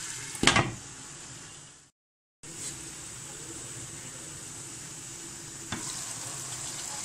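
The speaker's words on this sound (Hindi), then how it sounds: "पहले इसको हम भुनेंगे तकरीबन 3 से 4 मिनट के लिए अदरक लहसुन में।" Chicken sizzling steadily as it fries in ginger and garlic for a korma, with a loud stirring clatter near the start, a brief break in the sound, then continuous close frying hiss.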